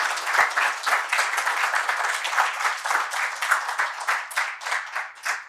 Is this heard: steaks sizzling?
no